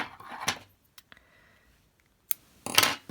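Scissors snip crochet yarn close by in a few short, crisp cuts separated by quiet pauses.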